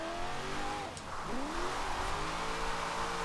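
Corvette C6 ZR1 with a stock front-mounted LS V8 in Forza Horizon 4, a steady loud engine drone with shifting revs and a brief dip near one second before climbing again, alone without talk.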